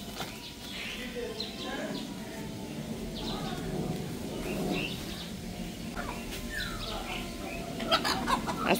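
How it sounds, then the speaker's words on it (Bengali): Chickens brought home from the market by motorcycle cluck in short, scattered bursts close by. People talk nearby, and the clucks get busier toward the end. "আর এগুলা কি মুরগি রে?"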